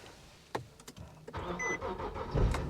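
A manual Infiniti G37s is started with the clutch in. A few faint clicks give way to a short crank, and the engine catches into a close, rising rumble.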